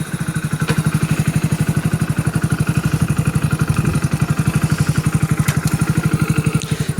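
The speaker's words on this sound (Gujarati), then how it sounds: "આપણું સ્પ્લેન્ડર બાઇક ખરી છે જો" A Hero Splendor motorcycle engine runs steadily at close range, its rapid, even exhaust pulses thumping without pause throughout, with a light mechanical clatter on top.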